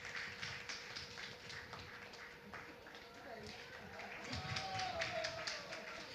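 Audience applause at an awards announcement during a foundation breakfast dialogue event, a steady wash of clapping from a crowd that runs throughout, mixed with talk and swelling slightly near the end.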